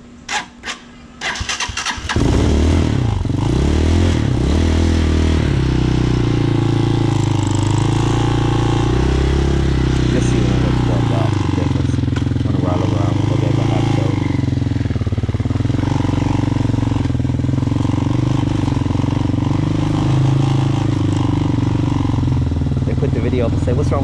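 A cold Hawk 250cc motorcycle engine starts after a few cranking bursts, then runs at a loud, steady idle close by, with a rough, slightly uneven tone throughout and no talking.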